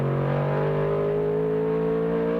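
Onboard engine of a GT race car lapping a wet Mosport circuit in World Challenge GT 2004, a loud sustained high-revving tone with rising harmonic lines as it accelerates, constant and close.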